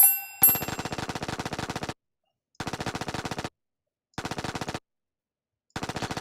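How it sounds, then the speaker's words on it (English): Enemy automatic gunfire in a video game, rapid machine-gun bursts repeating in regular on-off volleys with silent gaps between, preceded by a brief chime-like hit, loud and clean with no talking. "that triggers this guy to start shooting at you when that guy dies"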